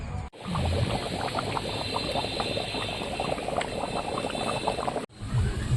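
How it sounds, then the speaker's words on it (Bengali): Mutton curry with salt boiling in a pot, a dense continuous bubbling and popping, close and steady, briefly cut at the start and end. "তো মাংসটা ফুটিয়ে নিয়েছি"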